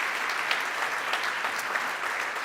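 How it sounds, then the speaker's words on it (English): A warm round of applause at a circularity conference, dense steady clapping from a sizeable audience, continuous and fairly close with no voices over it. "you should have a very warm round of applause as well"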